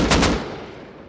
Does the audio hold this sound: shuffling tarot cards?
no